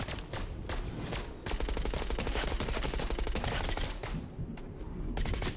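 Enemy players in Fortnite fire sustained automatic bursts, loud and dense, with a short lull midway before the shooting picks up again.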